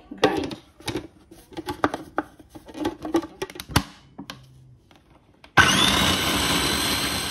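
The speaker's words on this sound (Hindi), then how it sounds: "इनको मैं अब शामिल करूंगी जी यहाँ पर चॉपर में। और बस इनको मैं अब करूंगी सबसे पहले ग्राइंड।" An electric kitchen chopper grinding onion, garlic and green chillies, first in short irregular pulsed bursts with clattering, then running continuously as a loud steady whir near the end.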